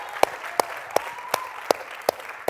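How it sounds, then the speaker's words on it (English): Handclaps greet Starbucks United at a community food event, heard as about seven sharp, evenly spaced claps in a steady rhythm, close and distinct rather than a dense roar. "let's give a hand to Starbucks United"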